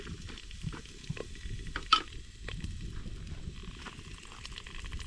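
Green chilies sizzling and frying in hot oil while being stirred, a steady close crackle with one sharper spatter, no voices.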